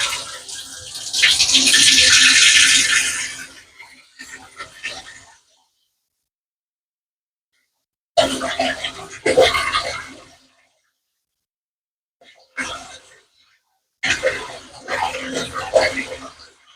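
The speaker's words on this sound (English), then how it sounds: "Now turn the water on." A bathtub faucet runs, its broadband rush loud for a few seconds, then stopping and restarting in shorter bursts during a home repair of a worn faucet cartridge; someone talks intermittently between the flows.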